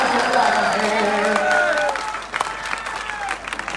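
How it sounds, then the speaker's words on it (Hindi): Applause and crowd noise at a Hindi-Urdu poetry recital, clapping rising under a speaking voice and continuing in uneven bursts as the voice carries on over it. "कमजोर तालियां खींचने से काम नहीं चलेगा"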